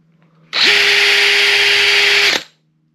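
A power drill cuts a foam cylinder, lubricated with a touch of WD-40, giving one loud, steady, high whine of about two seconds that starts and stops abruptly against silence.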